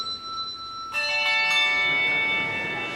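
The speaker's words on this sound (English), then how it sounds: "The bells ring for you." Church bells ring out after a quiet moment, one bright struck chime blooming into a sustained, shimmering overlapping ring that carries on to the end.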